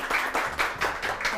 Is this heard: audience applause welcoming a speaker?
yes